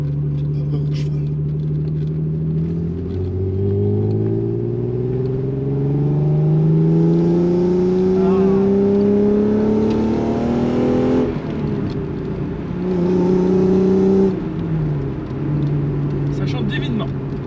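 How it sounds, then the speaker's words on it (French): An Alfa Romeo GTV6 3.0-litre V6 engine growls as it accelerates, its pitch climbing and dropping repeatedly through gear changes, loud and steady from inside the moving car. "déjà vous pouvez entendre le feulement du V6"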